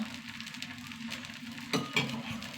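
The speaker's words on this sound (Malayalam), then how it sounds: "റാഗി ദോശ. ശകല നെയ്യ് ഒഴിച്ചു കൊടുക്കുക." Ghee poured onto a ragi dosa on a hot pan gives a soft, steady sizzle, faint and close, broken by a couple of small clinks near the end.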